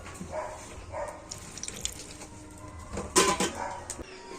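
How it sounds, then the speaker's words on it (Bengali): Water is poured into a bowl of coconut chutney with lemon juice before blending, brief splashes and kitchen clatter of utensils close by, with no talking. "অল্প একটু সামান্য পরিমাণে জল দিয়ে দেব"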